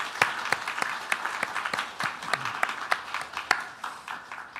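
A church congregation claps steadily to welcome a newly married couple during a service, a dense, continuous patter of many hands filling the room with no voices over it.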